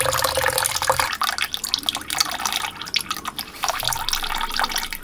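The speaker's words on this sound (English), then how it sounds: "once the tank is full enough, the ball cock float will rise up and stop the flow of water" Water pours steadily into a household feed and expansion tank through a ball cock float valve, a loud continuous splashing and trickling rush that runs the whole time with no pause.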